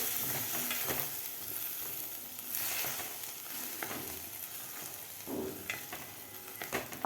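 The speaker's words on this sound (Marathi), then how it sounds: "दही घातल्यानंतर आपल्याला व्यवस्थित हलवायचं आहे" Green chillies simmering in curd give a steady close sizzle and bubbling, with spoon scrapes and stirring knocks scattered through it and no voices.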